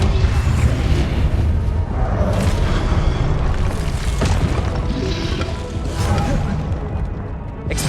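Confringo blasting spells explode during a duel in Hogwarts Legacy, a dense run of loud booms, crashes and magical bursts in quick succession, with brief voices mixed into the fight.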